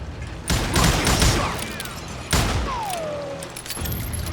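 Gunfire in a first-person shooter game, two sharp loud bursts that each fall off into a rumbling tail, with whistling ricochet-like tones trailing after them.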